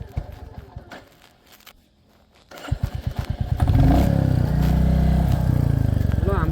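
A Royal Enfield Classic 350 Reborn in Stealth Black cranks and fires up close by, settling into a loud thumping idle before revving up and holding a strong, steady roar.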